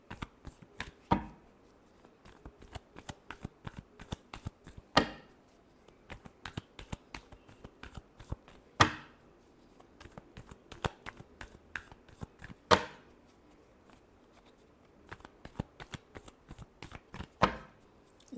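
Tarot cards being shuffled up close, a rapid patter of riffling clicks with sharper slaps every few seconds, quiet and steady.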